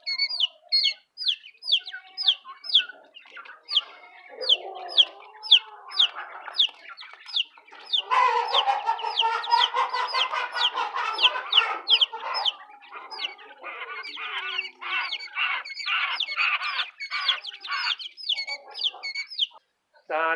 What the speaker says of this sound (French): On a des bécailles. Et nos petits poussins ici.